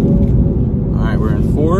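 Whipple supercharged 3.0 Mustang engine rumbling steadily at close range, then its pitch sweeping as it drops to fourth gear, loud and continuous throughout.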